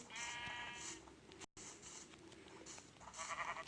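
Repeated sheep bleats in Minecraft, thin and slightly artificial, sound over a soft background hum, with a brief dropout in the middle.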